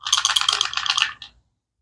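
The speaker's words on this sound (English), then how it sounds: "It's never a good sign when you hear a rattle inside electronics." Loose bits rattle and clatter inside the small hard casing of a Generac GP8000E portable generator, a quick burst of shaking for just over a second, then silence.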